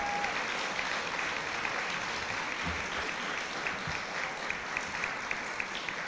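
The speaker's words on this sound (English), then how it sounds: "How about a big round of applause?" A graduation audience at a guide dog class ceremony applauds in steady, dense clapping that holds at an even level for several seconds, with no speech over it.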